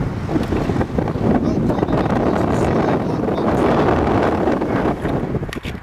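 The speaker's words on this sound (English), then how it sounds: "Oh, it's windy up here, isn't it?" Loud wind buffeting a microphone on a 13th-century medieval bridge during magnet fishing, a continuous roaring rumble that dominates throughout, with a voice faintly mixed in underneath.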